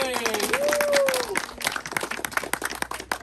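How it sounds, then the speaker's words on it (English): Members of a tour group at the Mystery Spot near Santa Cruz, California clap together, breaking into scattered rapid clapping after a short whoop and a cheer. The claps are close and uneven, and voices mix in. "now put your hands together and point in this direction and start clapping"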